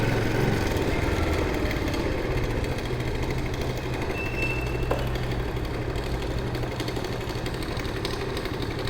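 A small scooter engine runs steadily at idle, a continuous buzzing drone with a slight rattle, close and fairly loud with no talking, outside Asunción, Paraguay.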